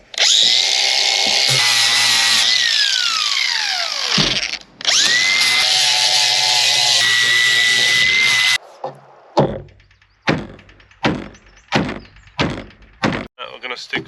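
A power sander works on the hull of a sailing boat, a loud, continuous motor whine that briefly dips and restarts, followed by a series of sharp knocking thuds.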